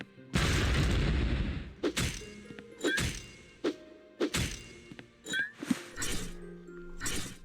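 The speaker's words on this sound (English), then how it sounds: "Get the animation of the boxes all blowing up and stuff." Boxes blown apart by a bomb in the video game Technomage: Return of Eternity, a heavy boom followed by a series of sharp thumps and cracks with short gaps between them.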